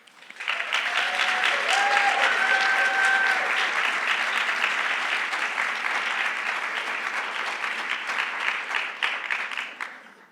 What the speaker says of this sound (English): That was a beautiful applause